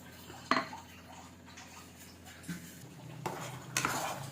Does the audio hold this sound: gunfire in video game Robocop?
no